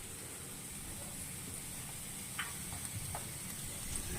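Onions with turmeric frying in a pan give a soft, steady sizzle at low level, with a few faint clicks from stirring and no talk.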